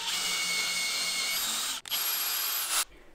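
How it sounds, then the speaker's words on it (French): Thread tapping into plywood on a CNC machine setup, a steady high, whining rub that runs continuously for nearly three seconds with a brief break partway, then cuts off abruptly. "Donc le taraudage dans du contreplaqué"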